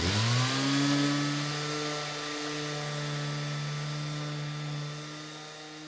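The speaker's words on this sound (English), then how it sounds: "I got a fresh piece of 120 grit sandpaper on my DA sander" A DA sander with fresh 120-grit sandpaper works a wooden lid, giving a steady close whine with a rising start that holds evenly, then eases slightly near the end.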